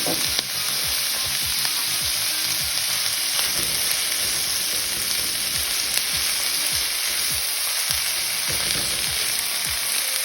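Coconut kurma ingredients sauté in a hot pan with a dense, continuous sizzle and crackle, broken by regular scraping taps of stirring, loud and close throughout.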